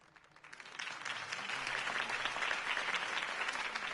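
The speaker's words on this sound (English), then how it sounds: "could have heard that applause" Applause from a crowd after a campaign speech in a Batman production swells in after a brief quieter moment and keeps going steadily, dense and sustained with no voices on top.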